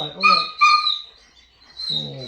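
A puppy gives high, thin whimpers in short bursts, two quick cries close together and then another after a pause, heard up close indoors.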